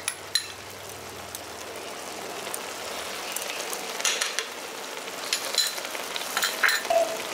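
Butter sizzles and crackles in a pan of soya keema masala cooked village style, a steady dense frying hiss with scattered pops that grows busier toward the end, close and alone.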